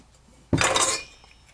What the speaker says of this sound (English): Throw some ice in our gimlet